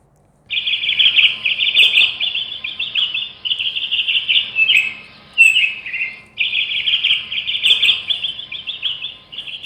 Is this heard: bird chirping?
yes